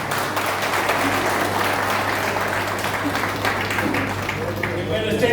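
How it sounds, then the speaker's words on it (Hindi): An audience claps in sustained, dense applause after a speech, a loud even wash of many hands with some crowd murmur underneath. "उनका प्रति आभार व्यक्त करे लेल जोरदार ताली"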